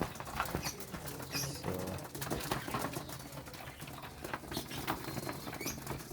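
Hungry pigeons feeding on bread, with a steady patter of pecking and scratching, scattered wing flaps and faint cooing, close and continuous throughout.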